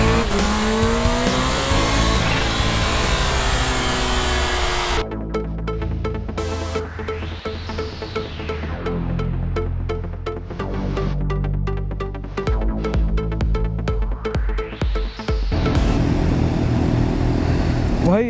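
A stock Kawasaki Ninja H2 Carbon motorcycle runs on a dyno, its engine revving up in two long, loud sweeps that rise and fall, steady and close throughout.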